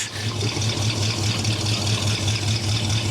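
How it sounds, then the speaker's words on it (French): A Pontiac Firebird 400 V8 runs with a steady, deep low throb, heard continuously at moderate level without distinct rev peaks. "on va faire vrombir le V8"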